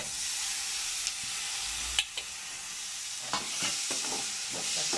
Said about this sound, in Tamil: தக்காளி நல்லா வறந்துட்டோம்